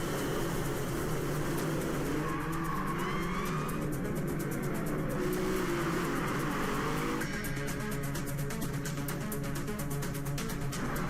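Racing car engines from the Gran Turismo video game drone and whine continuously, with shifting revs and a steady mechanical roar filling the whole stretch.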